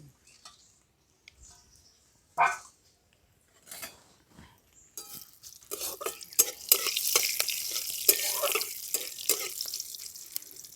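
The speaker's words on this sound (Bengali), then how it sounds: "ফোড়নটা একটু ভাজা ভাজা হয়ে গেছে" Whole cumin, bay leaves, dried red chillies, cardamom, cinnamon, pepper and cloves temper in hot oil, starting with faint taps and clinks before a bright, steady crackling sizzle builds up and carries on close by.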